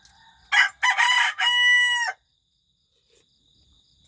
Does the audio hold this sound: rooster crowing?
yes